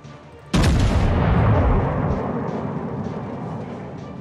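Warship gun firing a test shot in the video game World of Warships, one sudden loud boom followed by a long rumbling decay that fades over several seconds.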